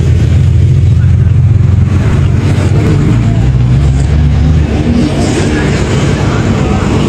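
Drift car engine revving loudly during a D1GP Japan check run before qualifying on a bumpy track, a steady dense roar throughout with rough low-end rumble and crowd ambience.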